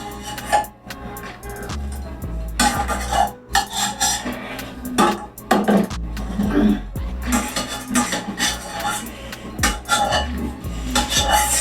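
Dishes and cutlery clatter as pasta is served into bowls in a home kitchen: repeated scrapes, clinks and knocks of metal on crockery, loud and close, in irregular bursts.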